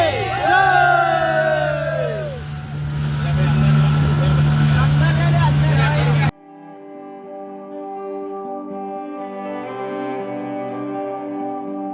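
A steady motorboat engine drone runs throughout, with excited voices and whoops over it at first, then a quieter, muffled engine hum after an abrupt change.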